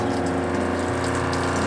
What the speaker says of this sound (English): we pressurize the system, and that's going to allow it to squeeze sap through those RO membranes and remove water